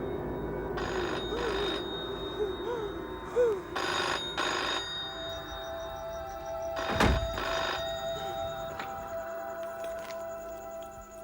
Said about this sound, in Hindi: देखो किसका फोन है, जाओ